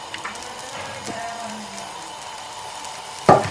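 Uthappam batter sizzles softly on a hot pan with a low, continuous crackle, broken near the end by one sharp, louder scrape or clatter.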